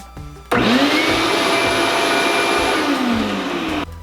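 A high-suction vacuum runs through a DIY bucket cyclone dust collector, starting abruptly into a loud, steady roaring whine that holds for about three seconds and then cuts off.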